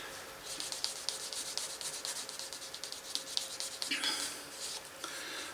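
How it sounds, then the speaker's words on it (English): Leather being burnished by hand for a Hellcat IWB holster, rapid repeated rubbing strokes in a steady rhythm, soft and close with brief louder scrapes. "the only reason we're burnishing the heck out of it is because we ain't gonna get to it afterwards"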